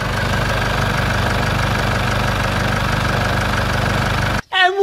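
A Chevrolet 2.8 engine in a Chevrolet S10 with oil in its coolant idles loudly and steadily, a rough mechanical rumble with a faint knock, then cuts off abruptly just before a voice begins.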